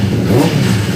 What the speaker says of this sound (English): I honestly love the way the CS Racing exhaust sounds